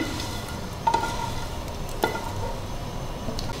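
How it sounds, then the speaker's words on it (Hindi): Fried onions go into a pan of yogurt for a homemade chicken white korma, with a steady soft sizzle and a couple of sharp clinks of a spoon as the mixture is stirred, no talking. "इसके अंदर मैं फ्राई प्याज डाल दूंगी"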